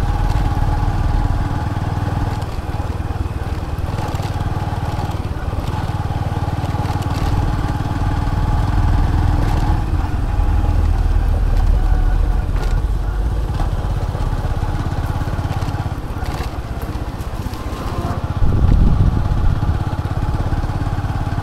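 A motorcycle rides along, heard from a helmet-mounted DJI action camera: a continuous mid-pitched engine drone with wind rush and small shifts in revs, loud and close the whole time.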